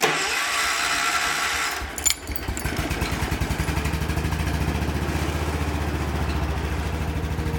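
A small 110 motorcycle engine cranks briefly, catches and settles into a steady, rapid putter at idle, close by, with no talking.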